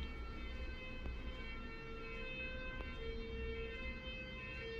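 An ambulance siren sounds at a train station scene, a steady, fairly distant wail held throughout under a constant background roar of ambient noise.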